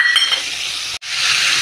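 Cumin seeds sizzle in hot oil for a vegetable bhaji: a loud, close, steady crackling hiss that cuts out abruptly for a split second near the middle, then returns just as strongly.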